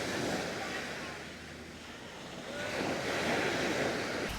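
Sea waves wash onto a beach in Pattaya, Thailand at sunset, with a steady rushing surf that swells again near the end, mixed with wind buffeting the microphone.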